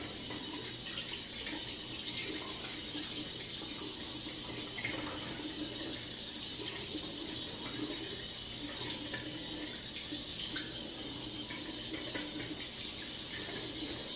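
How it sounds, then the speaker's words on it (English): Tap water runs steadily into a sink while someone rinses off after a shave, a soft, even close splashing hiss with small shifts as hands move through the stream. "See me washing right here, wash my ears off, wash the other ear off"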